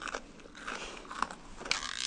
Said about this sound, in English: Can you crunch a little louder?